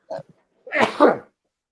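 A short, quiet breathy catch, then a sharp explosive sneeze burst close by, in an otherwise silent room.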